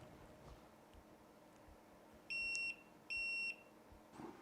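Two steady, high-pitched electronic beeps sound in quick succession as a Velotric Discover 3 ebike shuts down, each about half a second long and clear against a quiet background.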